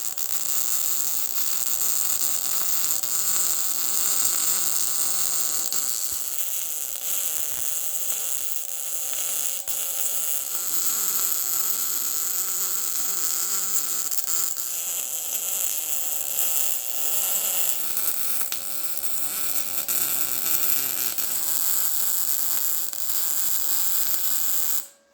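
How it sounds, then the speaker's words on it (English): Steel tabs being welded onto a shock cross member, a steady crackling electric buzz that runs unbroken and fairly loud for the whole stretch, with no talking. "I'm going to go ahead now and start welding all this up"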